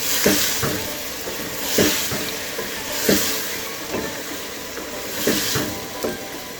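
Turnip and spinach sizzle steadily in a hot pan as red and green chili powder is stirred in, with a constant hiss that swells into louder bursts every second or so as the mixture is turned.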